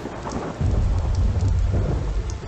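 Thunder from game-controlled lightning rolls in Mystery Trackers 3: Black Isle, a low loud rumble joining steady rain and lasting to the end after a brief quieter start.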